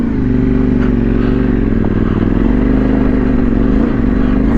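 A trail motorcycle climbing a hill on a green lane with its rear wheel spinning, the engine droning loud and close in a steady, heavy labouring note throughout.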